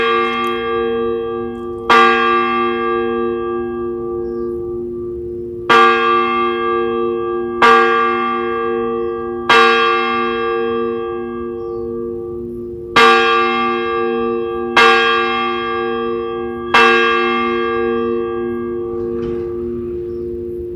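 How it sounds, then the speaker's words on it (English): A large bell tolls slowly at a 9/11 Patriot Day fire department memorial ceremony, seven clear strikes at irregular intervals, each ringing out and decaying into a long resonant hum. "we offer them a ringing of the bell as the last alarm"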